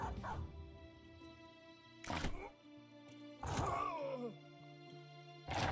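A war dog attacking a raider in the game Battle Brothers, a few loud separate snarling bursts and yelps with groaning between them, standing out against a steady low music bed.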